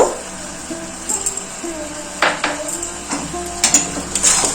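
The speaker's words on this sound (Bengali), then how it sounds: "অল্প করে কষিয়ে নেবো" Chicken is fried with onion in a pan as ginger-garlic paste is stirred in, with a spatula scraping and clinking against the metal in sporadic strokes over a faint, steady sizzle.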